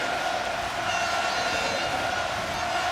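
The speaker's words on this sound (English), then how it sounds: "flags cheering on Benjamin Thomas and Donovan Grondin" French fans at the 2022 UCI Track World Championships velodrome roar continuously during a men's Madison race, a dense, loud, steady crowd noise with no individual voices standing out.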